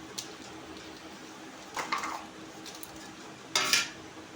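Crushed biscuits tip into a bowl in two short, soft rushing pours with light clinks against the dish, separated by quiet pauses.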